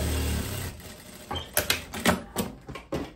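A sewing machine stitches a seam along the edge of a striped linen dress, running in short, rhythmic bursts of mechanical clatter close up, with brief pauses between runs.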